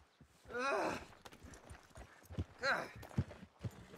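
Horse hooves clopping in Red Dead Redemption 2, a few soft steps under breathy voice sounds and short talk, with a whinny-like cry twice.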